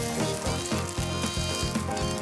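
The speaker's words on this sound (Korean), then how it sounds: "밀가루를 입히고 겉에 계란물을 발라서 센 기름에 튀기듯이 구워서 굉장히 바삭한 식감도 유도를 했어요" Floured, egg-washed skate pan-frying in hot oil, a steady crackling sizzle that runs continuously and close up, with music playing underneath.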